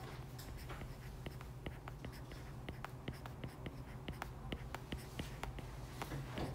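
Chalk or marker tapping and scratching on a board during a math lecture, quiet and close, with short irregular strokes and taps and no talking.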